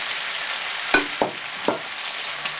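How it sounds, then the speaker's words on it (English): Croutons frying in hot oil in a pan, a steady sizzle broken by a few sharp clacks and scrapes as they are tossed around, no voices. "And then simply toss them around in the oil."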